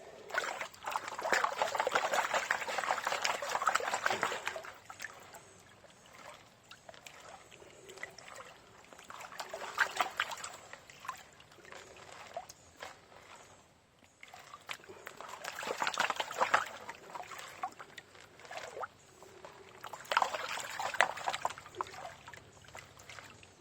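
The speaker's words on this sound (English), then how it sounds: "half a bucket here and pan through it, because this is the material I was getting the flakes out of" Crushed bedrock material swirled and washed in a gold pan full of water, giving bursts of trickling, sloshing splashes that come in waves with quieter pauses between, fairly close.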